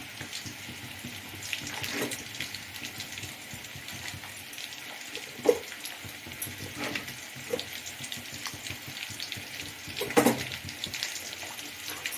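Eel fish curry bubbling in a covered pot, a steady soft simmer with faint sizzling crackle throughout and a few brief clinks and knocks, no talking.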